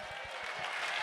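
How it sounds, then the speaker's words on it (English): A live audience bursts into applause for a young boy who has come up on stage; a steady, close wash of clapping holds the whole time, with no talking over it. "Give him a round of applause."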